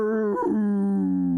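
A voice imitates the death howl of a Fallout mole miner: a sustained, mournful tonal wail with a brief wavering break near the start, heard close and alone.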